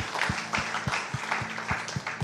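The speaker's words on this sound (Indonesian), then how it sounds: "tepuk tangan dulu buat Tuhan" A church congregation claps in unison, a steady, evenly spaced run of about eight claps at a moderate distance with little else in the room.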